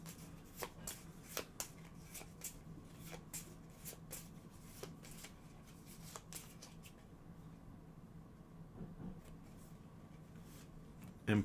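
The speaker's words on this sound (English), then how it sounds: "shuffle them," A deck of cards being shuffled by hand, quiet repeated riffles and soft flicking snaps in irregular bursts, close and faint, ending with a louder knock.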